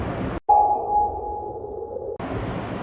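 A multibeam echosounder on a hydrographic survey vessel sends out a single sustained sonar ping that holds for about a second and a half, set against a steady background hiss.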